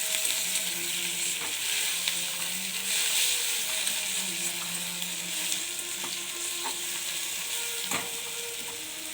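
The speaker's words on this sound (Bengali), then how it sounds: "এবার টমেটো কুচি দিয়ে একটু ভালো করে ভাজবো।" Chopped tomato frying with onions in a pan gives a steady, close sizzle broken by intermittent stirring scrapes and light clinks, with no talking.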